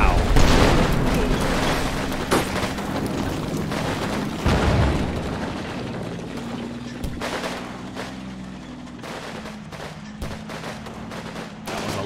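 An infantry gun fires in the World War II strategy game Combat Mission Red Thunder during a Soviet assault in urban rubble, with repeated sharp reports and booming impacts scattered over a battle din, some shots close and loud, others fainter.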